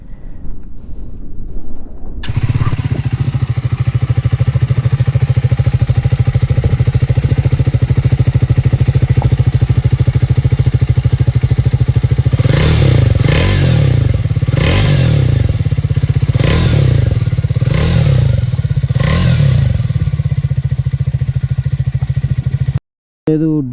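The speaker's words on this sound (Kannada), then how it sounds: "ಸೊ ನಾವು ಅದ್ರದ್ದು ಎಕ್ಸಾಸ್ಟ್ ನೋಟ್ ಕೇಳೋಂಬರ್ರಿ" Triumph Speed 400 motorcycle exhaust note, loud and close, with a steady throbbing idle that breaks into a string of sharp revs before dropping back to idle and cutting off.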